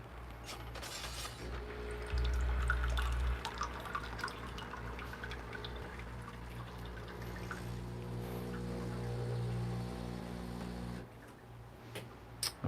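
A Breville Barista Pro espresso machine runs a dummy shot, its pump giving a steady low hum for about eleven seconds with small mechanical ticks and trickling water, then cutting off.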